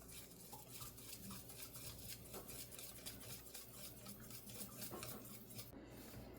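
An egg being mixed into brownie batter in a bowl, a utensil clinking and scraping in quick, regular strokes against the side, faint and steady throughout, with no one speaking.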